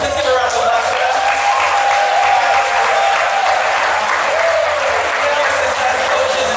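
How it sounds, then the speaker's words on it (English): Loud, dense applause from a university audience at a first-year day of service event, holding steady and unbroken from start to finish. "so let's give a round of applause for them."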